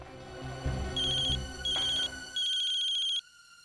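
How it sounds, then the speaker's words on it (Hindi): A phone ringtone chimes in three repeated electronic bursts, clear and close, with some low background rumble at the start. "किसका फोन है?"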